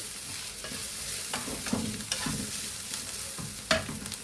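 Grated fresh coconut fries in a pan for an egg curry, with a soft continuous sizzle and occasional stirring scrapes and light clicks of a utensil, nearby and fairly quiet.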